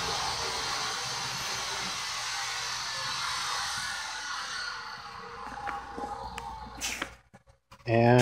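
A Spencer portable industrial vacuum cleaner drones with a steady broadband whoosh that fades near the end before a clatter, with a person talking over the noise.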